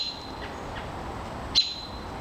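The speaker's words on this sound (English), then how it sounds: "red-tail hawk fledgling." A red-tailed hawk fledgling gives a single short, sharp call outdoors, with a few fainter chirps before it over a quiet background.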